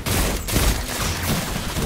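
A hand cannon fires in the Destiny 2 beta first-person shooter, loud, dense gunfire in rapid succession that fills the whole moment with little pause between shots.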